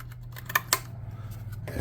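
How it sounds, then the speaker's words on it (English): Two quick sharp snips of scissors trimming a piece flush on a model train car cut through a low steady hum, with faint handling clicks scattered around them. "I'm just going to grab these scissors"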